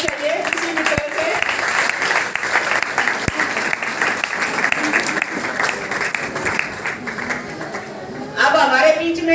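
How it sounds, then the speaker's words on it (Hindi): Applause from the crowd at a women's conference welcoming comrades, many hands clapping continuously for several seconds, a few sharp close claps standing out and a louder burst near the end, with voices faint underneath. "साथियों, तालियों की गड़गड़ाहट के साथ साथियों का स्वागत करें"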